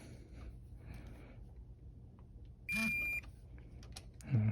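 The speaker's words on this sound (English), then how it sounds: "So you hear that beep, and also hear the vibration." A short electronic beep with a steady tone from a torque wrench reaching set torque during a Honda CB300R valve adjustment, over a low mechanical hum and faint workshop noise, followed by a brief low buzz.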